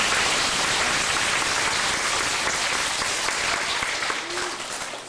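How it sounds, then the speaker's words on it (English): Audience applause at a wish-granting event in Cornwall, Ontario: a dense, steady wash of clapping that continues for several seconds and fades slightly at the end. "Can we give him a round of applause?"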